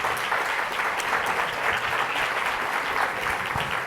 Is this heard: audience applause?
yes